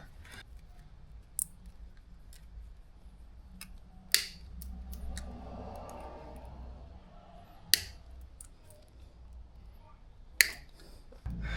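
Zip tie ends are trimmed on a KTM 690 Enduro R motorcycle, sharp isolated snips or clicks heard a few times, close and crisp against a quiet background.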